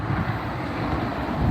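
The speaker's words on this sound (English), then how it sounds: "it is windy out" Strong wind on a rainy, chilly day buffets the microphone in a continuous low, rumbling roar, gusting slightly louder toward the end.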